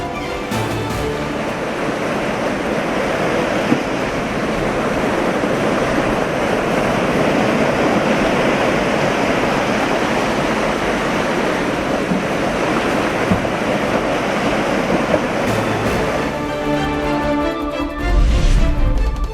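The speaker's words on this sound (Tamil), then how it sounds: "சூறைக்காற்றால் ஆக்ரோஷத்துடன் சீரிய அலைகள்." Rough sea at Puducherry whipped by cyclone winds, a loud, continuous roar of crashing surf mixed with heavy wind buffeting the microphone, swelling again near the end.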